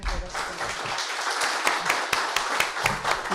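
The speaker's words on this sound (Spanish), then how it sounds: "Un aplauso, por favor." Audience clapping after a lecture, a fairly loose round of applause with distinct individual claps, moderately loud and close.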